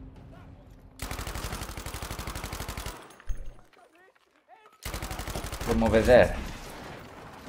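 Bursts of gunfire crackle in multiplayer Battlefield 5 combat: a long rapid volley, a pause, then another sustained burst with a loud blast near the end, as someone talks briefly in between.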